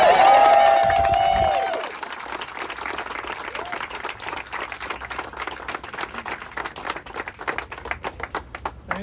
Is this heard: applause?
yes